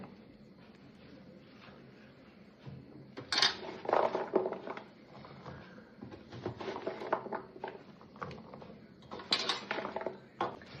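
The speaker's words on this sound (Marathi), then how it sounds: "सगळा मसाला आपण असा मिक्स करून घेऊया." Soft clinks and scrapes of a spoon mixing amla pieces with pickle spice mix in a bowl, quiet irregular bursts of utensil contact close by with no voices.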